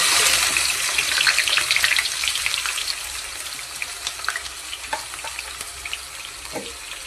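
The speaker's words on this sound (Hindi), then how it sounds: "प्याज को ब्राउन कलर हवा पर्यंत भाजवा।" Onions fry in oil in a pan until brown, giving a steady close sizzle and crackle with scattered stirring sounds, fading somewhat toward the end.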